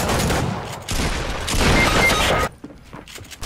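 Rapid video-game gunfire from Fortnite Battle Royale, a dense loud burst of repeated shots for a few seconds that cuts off abruptly, followed by faint scattered noise, with no voices.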